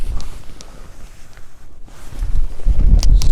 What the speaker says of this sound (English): I'm going to check the wind speed because it feels windy.